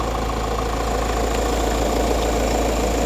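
A used car's engine idles close by with the hood open, a low continuous rumble with a faint rhythmic throb and no voices.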